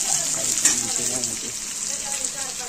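Chopped onion frying in a pan, cooked Indian home style, giving a steady close sizzle with a bright hiss that holds throughout, plus a brief louder crackle early on.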